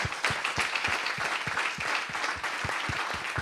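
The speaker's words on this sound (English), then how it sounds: "let's give a warm applause to the current students" Steady applause from a crowd, dense overlapping claps with a few sharper individual claps standing out, continuing throughout at a lively, even level.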